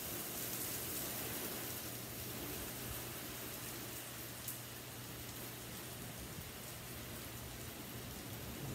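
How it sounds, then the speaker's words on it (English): Steady rain patters on surfaces as a constant wash of noise, with a low hum running underneath and no talking. "You can hear the rain in the background now."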